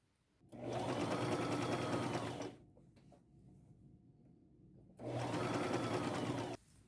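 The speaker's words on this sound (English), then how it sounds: "I'll sew and kind of pleat, sew over it as I go along." A sewing machine stitches and pleats sheer scarf fabric with its tension set low. It runs in two close, loud bursts of rapid stitching, separated by a quieter pause with faint handling noise.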